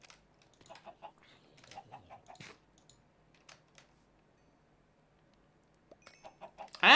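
Chickens cluck in a blocky chicken-breeding video game, including a cobble chick, with short clucking bursts clustered early on and again near the end, separated by quieter stretches and faint clicking.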